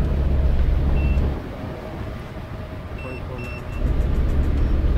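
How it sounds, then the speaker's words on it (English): A battery charger gives a few short, high electronic beeps, some in quick pairs, over the steady rumble and wind of a vehicle moving across a dry lake bed. "Don't mind that beeping, that's my battery charger."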